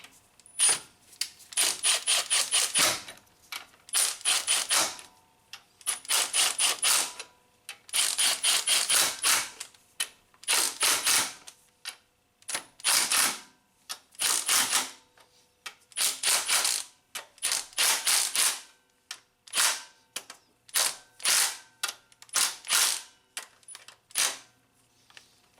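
A ratchet tightens engine mount bolts on a 2007 Nissan Altima, giving repeated bursts of rapid clicking in quick strokes, close and crisp, with short pauses between runs and no talk.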